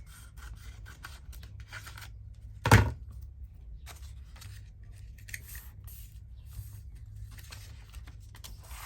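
Scissors trim a paper edge at a crafting desk, a short, single crisp snip near the middle followed by soft rubbing and faint handling scrapes in a quiet room.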